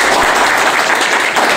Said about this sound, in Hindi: बिल्कुल इनके लिए जोरदार ताली बजाइए जरा